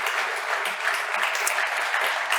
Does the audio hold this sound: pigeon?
no